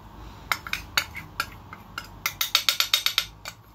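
A utensil clinks against a bowl while cocoa is mixed into cake batter, with scattered taps at first, then a quick rhythmic run of close, bright clinks near the end.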